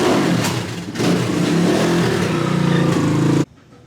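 A Chinese dirt bike's engine revs hard and steadily, loud and close, during a wheelie, then cuts off abruptly near the end.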